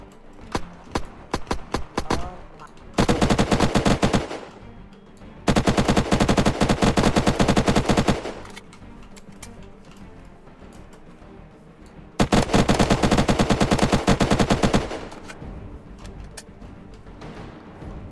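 Bursts of automatic gunfire crackle through a video game raid by a German army: long, loud machine-gun volleys alternate with scattered single shots and quieter gaps.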